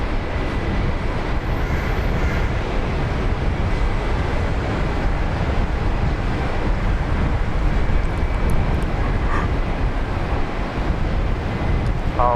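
Korean Air flight 408, a heavy jet, departing Brisbane Airport, makes a loud, steady roar of engine noise with wind buffeting, continuous and close throughout with no pauses and no voices.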